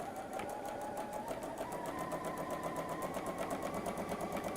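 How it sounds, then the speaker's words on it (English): A sewing machine stitches a quarter-inch seam with a fast, even mechanical chatter and hum, close and steady throughout. "we're going to sew 1/4 inch either side of the drawn line"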